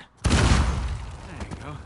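A single loud dynamite explosion in Uncharted 4 booms suddenly and then rumbles away with debris-like crackle, with no one speaking.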